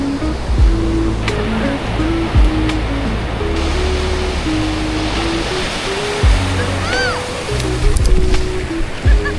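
Sea waves wash and slosh around bathers at a beach in La Union, a steady close rush of surf with a few louder surges, under a loud noisy bed.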